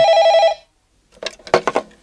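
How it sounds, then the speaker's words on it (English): A telephone rings once in a brief, bright electronic trill close by, followed by a short silence and then a few clattery knocks. "One morning in August, Joanna answers the phone."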